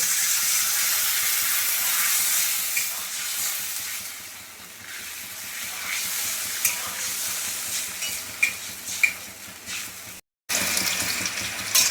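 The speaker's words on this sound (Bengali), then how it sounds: "এবারে আমি জল দিয়ে দেবো।" Water is poured into a pan of snakehead fish curry with cooked-down spiced masala, giving a continuous rushing splash over sizzling and stirring, with a brief cut near the end.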